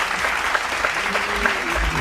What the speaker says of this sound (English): A big round of applause for Madam Yasmeen Chima Saiba.